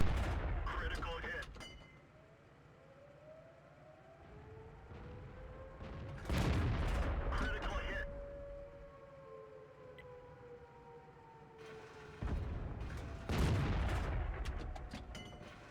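Tank cannon fire in World of Tanks on the Sand River map, with a VK 28.01 in play. Several loud booming shots come in bursts near the start, middle and end, while wailing siren-like tones slide between them.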